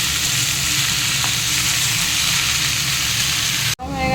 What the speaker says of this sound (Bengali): গরম হয়ে গেছে, লাউ শাক দিয়ে দিলাম।